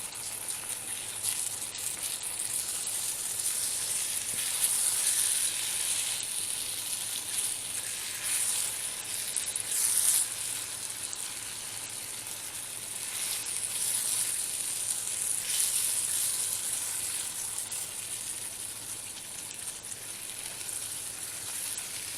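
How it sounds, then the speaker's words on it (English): Eggplant and bell pepper sizzle in a pan as they are stirred, a soft steady crackling hiss with faint scraping swells throughout, no talking. "So you just keep stirring this thing so they cook evenly."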